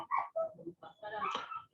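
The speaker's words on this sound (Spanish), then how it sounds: "está mi perrita llorando" A small dog whimpers and whines close by, a string of short, high, plaintive cries with brief gaps between them, heard on its own in a quiet room.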